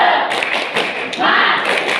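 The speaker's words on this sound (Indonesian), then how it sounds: "Tepuk semangat" A group of children and a leader perform a short, rhythmic clap-and-chant cheer together in a room, several quick hand claps mixed with shouted voices, close and lively.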